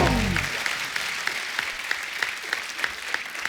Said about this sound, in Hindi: दादा के लिए जोरदार तालियां हो जाएं एक बार।